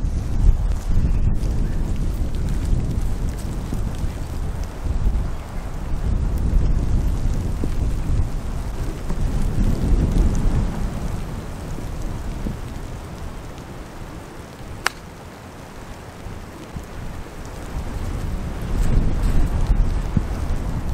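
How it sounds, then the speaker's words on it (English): Heavy rain pours on a golf course with wind buffeting the microphone, a dense continuous roar that swells and eases, with one brief sharp crack and no distinct thunder. "it's properly raining now and I'm worried about the gear"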